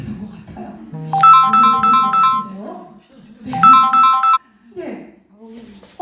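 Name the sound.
phone ringtone ringing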